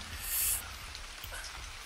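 Rain falls steadily in the ARK video game, a soft, even hiss with a faint patter and a brief brighter splash near the start, heard alone.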